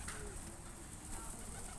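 Pigeons cooing faintly while feeding at Blaydon shopping centre, low soft calls heard at a distance beneath steady outdoor background noise.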